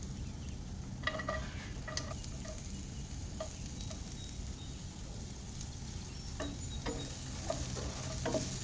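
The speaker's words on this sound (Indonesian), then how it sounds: "Tumis hingga wortelnya agak layu." Carrots stir-frying in a pan for fried rice vermicelli with soy sauce, a steady soft sizzle with occasional light clicks and scrapes of a spatula stirring, close and alone.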